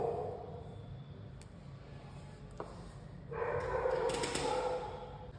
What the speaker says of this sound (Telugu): బయట మా ఇంటి పక్కన ఉన్న కుక్క అరుస్తూ ఉంటుంది.